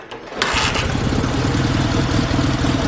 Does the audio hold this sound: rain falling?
no